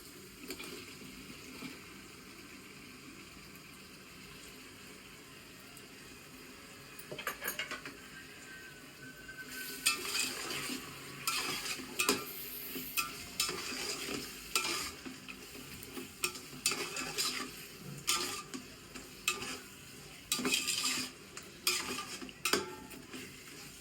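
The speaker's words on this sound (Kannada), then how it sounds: "ಇದೆಲ್ಲ ಸ್ವಲ್ಪ ಚೆನ್ನಾಗಿ ಫ್ರೈ ಆಗಲಿ." Onions and spices frying in a pan for chicken dum biryani, a steady low sizzle punctuated by bursts of spoon scraping and stirring against the pan that grow louder and more frequent.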